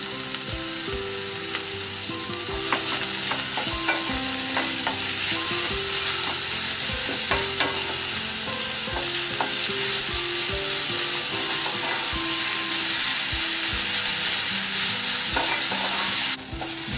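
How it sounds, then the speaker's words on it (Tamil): Onion and garlic with a little salt sautéing in a pan for tomato kurma, a loud continuous sizzle with frequent spatula scrapes and taps against the pan throughout. "வெங்காயம் பூண்டு வந்து ஓரளவுக்கு நல்லா வதங்கி இருக்கு."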